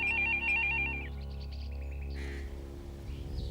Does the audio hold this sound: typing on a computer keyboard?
no